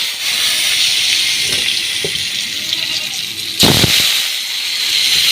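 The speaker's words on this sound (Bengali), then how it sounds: "আলুটা ভেজে নিচ্ছি" Potato chunks fry in oil for a light curry, a loud, steady sizzle laced with crackles and a few sharp pops close by.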